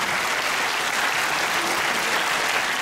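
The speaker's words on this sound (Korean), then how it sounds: "월남전 참전용사들께도 박수를 보내주시기 바랍니다." Audience at a Pyeongtaek veterans' association lecture clapping for Vietnam War veterans: steady, dense applause from a sizeable crowd, sustained and even throughout with no voices over it.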